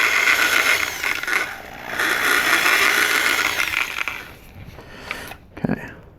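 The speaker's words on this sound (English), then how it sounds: "So I got 3/16 drill bit in my drill, and I'm just making sure this hole is the right size." A hand-held electric drill fitted with a 3/16 bit drills a hole in a 1/72 scale model kit part. It makes a steady whirring, grinding sound for about four seconds, then short intermittent bursts and clicks follow.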